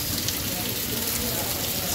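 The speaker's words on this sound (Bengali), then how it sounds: "অনেক বৃষ্টি আজকে সৌদি আরবে" Heavy rain pours steadily in Mecca, Saudi Arabia, a dense, continuous hiss of drops striking surfaces at close range with no pauses, loud and even throughout.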